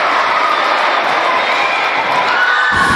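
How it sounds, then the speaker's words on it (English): Parents and teachers cheering at a high school girls volleyball sectional final, a loud, dense crowd roar filling the gym steadily throughout. "the Mr. Harley Helmer and Mr. Rex Delano are trying to get the older parents and teachers of our IHSA High School Academy to get up and cheer them."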